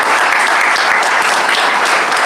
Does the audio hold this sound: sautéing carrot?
no